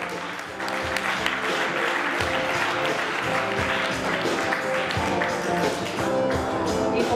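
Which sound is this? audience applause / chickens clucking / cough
audience applause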